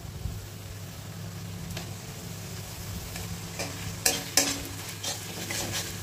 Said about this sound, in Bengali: জল অ্যাড করে দিলাম মশলাটা কষানোর জন্য